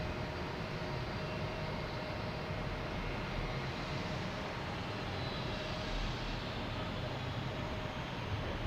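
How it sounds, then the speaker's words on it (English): An American Airlines A321neo airliner arriving from Phoenix at Boston Logan makes a steady, moderately distant jet roar that holds broadband and unbroken throughout, with no voices. "we have American Airlines and A321neo coming in from Phoenix"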